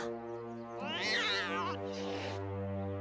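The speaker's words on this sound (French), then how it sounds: "Qui a apporté ce chat?" A cat meows twice, a rising drawn-out cry then a shorter one, close and fairly loud over a steady low hum.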